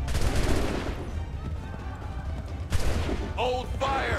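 Soldiers fire a musket volley in Assassin's Creed 3, a burst of overlapping shots at the start followed by a second crack midway, with battlefield din and shouting voices.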